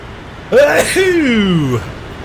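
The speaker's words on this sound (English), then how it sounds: "Sneeze again." A single loud sneeze from a person close by, a sharp burst trailing into a drawn-out voiced tail.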